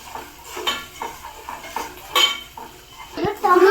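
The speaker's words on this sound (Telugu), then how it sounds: "అల్లం పేస్ట్, ధనియాల పొడి, గరం మసాలా అన్నీ వేసి బాగా కలపాలి." Ginger paste, coriander powder and garam masala mixed in a pot with a metal spoon, heard as close irregular clinks and scrapes against the pot, with a faint sizzle underneath.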